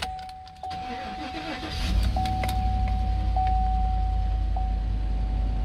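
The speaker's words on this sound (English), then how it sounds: "I'll go ahead and start her on up for you" A 2015 Chevrolet Suburban LT starts up: a short crank catches into a steady, close idle rumble that carries on to the end, with a repeating chime sounding over it.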